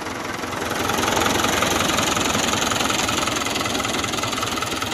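A Fiat 640 tractor's diesel engine runs steadily nearby, a loud, continuous knocking chug with a dense, even rhythm throughout and no talk over it.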